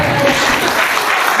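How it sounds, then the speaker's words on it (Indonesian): An audience at a Quran memorization training event claps in a brief, loud burst of applause, close and dense. "Oke, tepuk tangan buat masnya."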